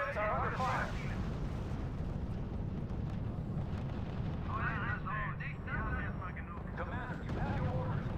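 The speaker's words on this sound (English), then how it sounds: "Our units are under fire." Continuous rumbling artillery fire and gunfire pound units in the R.U.S.E strategy game, a dense low roar lasting throughout with radio-style voices speaking over it.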